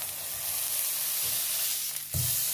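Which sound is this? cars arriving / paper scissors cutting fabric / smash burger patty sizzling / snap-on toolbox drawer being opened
smash burger patty sizzling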